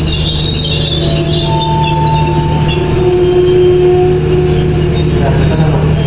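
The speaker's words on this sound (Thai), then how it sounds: "เข้าสู่สถานีพัทลุงในชานชาลาทางที่หนึ่งนะครับ" A Thai passenger train, service 38/46 on the Phatthalung–Surat Thani line, squeals steadily and loudly as its wheels grind into Phatthalung station, with sustained high metallic tones over a constant low rumble of rolling stock and no talking.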